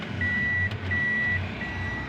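A Toyota Aqua Hybrid's reverse-gear warning chimes in steady, clear high tones, three evenly spaced beeps heard close inside the car over a low hum.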